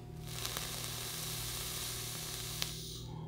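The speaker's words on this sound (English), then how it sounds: "hopefully hear that it's really sizzling and producing a lot of vapor" A YiHi SXMini vape device in powerful mode at 50 watts hisses and sizzles steadily as it produces vapor, a close, continuous crackling hiss that runs for about three seconds before tapering off.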